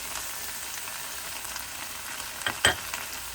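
Chicken fry in tomato and whole spices, with coriander just added, sizzles steadily in a hot pan, and a couple of louder scraping stirs break through near the end.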